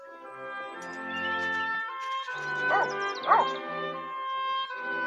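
Dog barking and yipping in a TV commercial, a few sharp barks and whimpering yelps over a background music bed, heard as playback rather than in the room.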